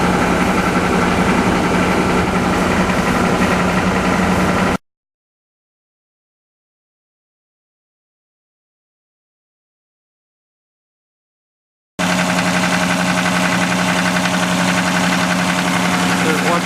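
A car engine idling with the A/C compressor engaged, held at about 1400 RPM: a steady, loud mechanical drone with a low hum, cut by a long silent gap in the middle before the same drone resumes.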